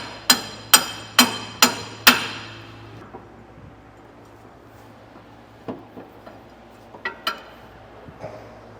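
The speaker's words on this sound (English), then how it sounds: "We're going to come to that front U-bolt and get that tapped out." A hammer taps out a U-bolt on the rear suspension of a 2005 Workhorse motorhome chassis: five sharp metallic strikes in quick, even succession, then a pause and a few scattered lighter knocks, close and loud in a quiet garage.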